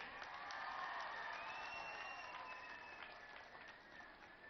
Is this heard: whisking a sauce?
no